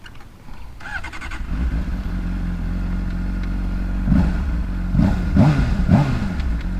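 A 2007 Honda CBR 600 RR motorcycle with stock exhaust revs in several sharp bursts over a steady idle, close and loud, with no talking.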